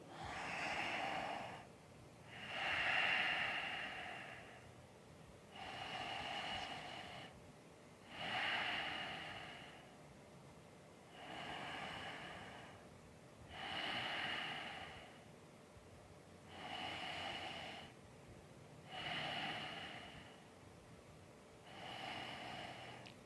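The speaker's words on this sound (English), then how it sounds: "Do 5 rounds of breath into rib cage breathing." Slow, deep rib cage breathing during a yoga core session, with about nine even, unhurried rounds of breath. Each inhale and exhale is close and soft, with a quiet pause between breaths and no talking.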